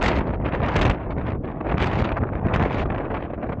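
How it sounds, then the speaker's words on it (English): Strong wind gusting at an outdoor football game between QMBL and UWE, a loud, steady roar buffeting the microphone with surging gusts throughout and no voices. "The wind is picking up."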